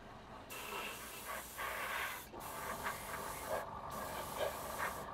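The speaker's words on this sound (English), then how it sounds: "you want to just come in and give a quick spray around the edges" Short bursts of an airbrush or spray can misting paint around the edges of a 1/48 scale Revell Junkers Ju 88 A-4 model, a steady close hiss broken by two brief pauses.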